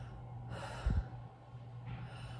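A singer breathing in during a vocal exercise meant to lift the soft palate, heard as a soft, close inhalation with a brief snort-like catch partway through, followed by a second faint breath.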